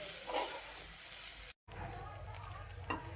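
Dried and fresh coconut roasts in a pan with a steady, close hiss and sizzle, interrupted by a brief gap, then the frying resumes with faint stirring scrapes.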